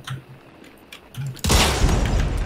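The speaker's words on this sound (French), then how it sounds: "Il y a des coups de feu." A loud burst of blasts erupts midway in Hunt: Showdown, dense crackling gunfire after quieter scattered sounds at the start.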